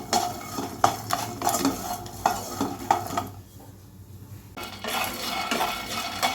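Peanuts being dry-roasted in a pan for poha laddu scrape and rattle under a stirring spoon in rhythmic bursts with light clinks against the metal, pausing briefly midway before the stirring resumes, close and fairly loud.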